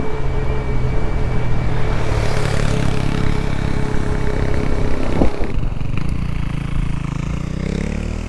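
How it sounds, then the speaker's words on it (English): A gas-powered motorbike passes on a country road in Wingdale, New York. Its engine drone stays steady and fairly loud under the constant hum of a ridden e-bike, with a brief clatter midway and no talking. "Oh, that's a gasser bike."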